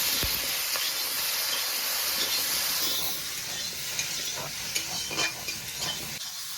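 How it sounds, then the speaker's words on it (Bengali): Sliced okra seasoned with salt and turmeric fries in hot oil in a pan, giving a steady bright sizzle with a few scraping stirs toward the end and no voices. "এরপরে নেড়ে চেড়ে ভেন্ডিটাকে ভাজা ভাজা করে নেব"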